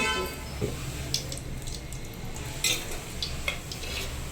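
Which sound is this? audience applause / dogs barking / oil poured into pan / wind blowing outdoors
oil poured into pan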